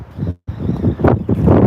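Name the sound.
strong wind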